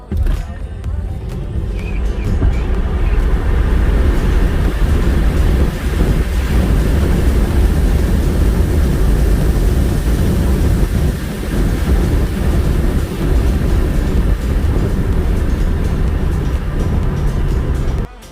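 A Tesla Model 3 Performance races a Model S Plaid, heard as a loud, continuous roar of road and wind noise from inside a moving car, with muffled voices underneath.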